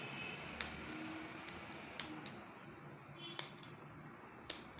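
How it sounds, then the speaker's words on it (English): Scissors snip notches into fabric at a baby girl's Peter Pan collar neckline, four or five crisp, quiet cuts spaced about a second apart against a faint background hum. "When you're notching a neck or any part that you sew, make sure you slant your scissors."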